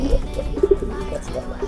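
A pigeon in a new coop gives soft, low repeated coos in a short rhythmic series, close and fairly loud.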